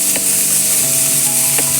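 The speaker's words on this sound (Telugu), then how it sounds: "ఇలా మనం వేసిన ఈ ఉల్లి టమాటా ఈ మసాలా అంతా లైట్గా ఫ్రై అయిన తర్వాత" Onion, tomato and masala frying in a pan for a green peas curry: a loud, close, steady sizzle with a couple of brief scraping stirs and no voices.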